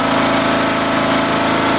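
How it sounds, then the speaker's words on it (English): Small engine revving high and steady, a loud, buzzing, rapid pulsing drone that stays constant throughout. "the engine revs like crazy, so I need to deal with that"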